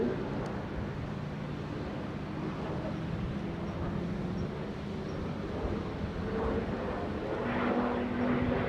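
An F-35B fighter jet flies a display at an airshow, its broad, steady engine roar filling the air at constant loudness, with a rising whine near the end.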